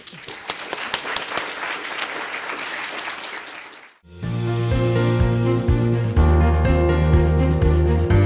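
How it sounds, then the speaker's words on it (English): Audience at a student awards evening in Bibb County, Georgia, breaks into loud, dense applause that drops away after about four seconds and is followed by music with steady tones. "there was a roaring round of applause for Avion Marie Safret"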